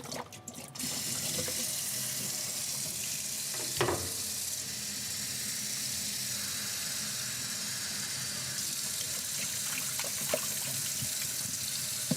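Tap water runs steadily into a spray bottle being filled with a soapy mix for window tint work, a continuous close hiss and splash lasting throughout with no talking.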